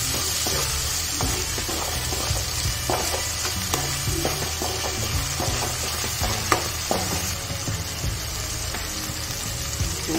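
Dried shrimp and besan fry in a pan with a dense, steady sizzle, broken by repeated close scraping taps of a spoon stirring, with no talking.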